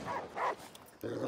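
A dog barks in the video game Last Day of June, giving a few short, close, fairly faint barks in quick succession with no talk over them.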